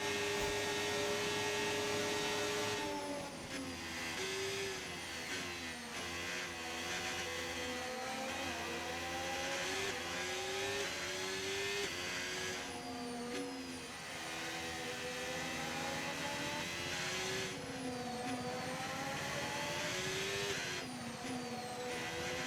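An F1 race car engine in the F1 25 video game whines at high pitch without a break, rising and falling through gear changes on a final lap, steady and fairly quiet under game sound.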